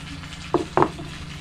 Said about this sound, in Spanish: si escuchas, ya se están dorando los tacos de chicharrón